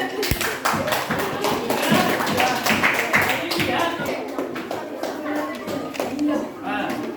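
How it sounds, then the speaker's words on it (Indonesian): A primary school classroom breaks into applause for a student group during a fractions lesson, dense rapid clapping filling the room throughout, with children's voices mixed in. "Tepuk tangan untuk kelompok 1"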